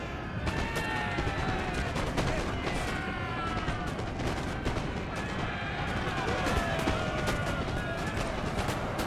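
Musket volley fire in a Napoleon: Total War online battle, a dense crackle of overlapping gunshots and rolling shots running throughout at moderate loudness, with game ambience beneath.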